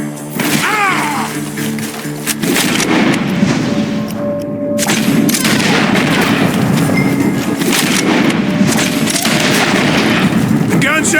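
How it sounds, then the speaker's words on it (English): Gunfire rings out in a Red Dead Redemption II shootout, dense bursts of shots and booms running almost continuously and loud throughout, with a shouting voice and game music layered over the blasts. "The gunshots are coming from that barn!"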